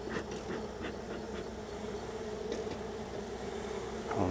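Honey bees buzzing steadily around an open hive during an inspection, a dense continuous drone that swells slightly toward the end, with no talk.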